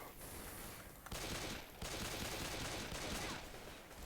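Sustained automatic gunfire in Left 4 Dead 2 fills the clip, loud and dense with short breaks between bursts, and no talk is heard.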